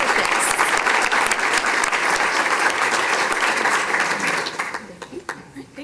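A school district board meeting audience breaks into loud, sustained applause, many hands clapping together before it thins out and fades near the end.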